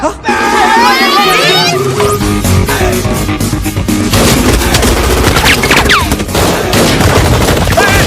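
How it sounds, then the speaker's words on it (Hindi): Rapid bursts of gunfire crackle loudly in a sustained fusillade, with shouting voices mixed in amid the chaotic shooting. "गोलियां चल रही है भाई साहब।"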